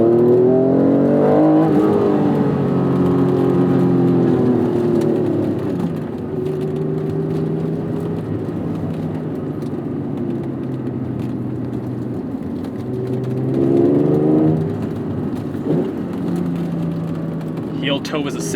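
A 1992 Acura NSX with a cable-actuated throttle drives a canyon road, its engine revving up loudly, easing into a steady drone, then climbing again with a sharp rise near the end.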